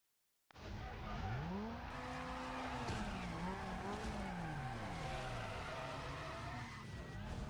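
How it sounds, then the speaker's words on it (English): A turbocharged Honda Civic Si engine revs steadily, its pitch sweeping up and down over several seconds, with squealing tones layered on top; it starts abruptly after a short silence and stays close and continuous. "I have turbocharged this Honda Civic Si."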